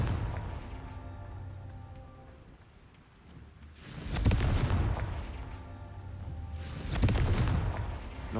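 Two heavy blasts from the Confringo fire spell in Hogwarts Legacy, each a loud broadband boom with rumbling decay, about three seconds apart, over a low ambient game drone.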